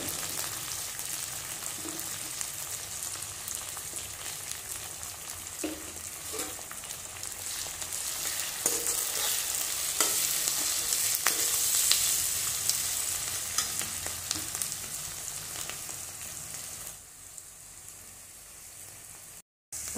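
Continuous sizzling and crackling of green chilies frying in hot oil, with occasional stirring scrapes, steady and fairly loud throughout.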